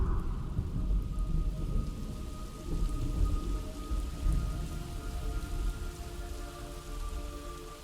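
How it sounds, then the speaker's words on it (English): Steady rainfall in Metal Gear Solid Delta: Snake Eater, a dense hiss of drops pattering on surfaces with low rumbling thunder underneath, continuous and fairly quiet with no voices. "It's raining blood."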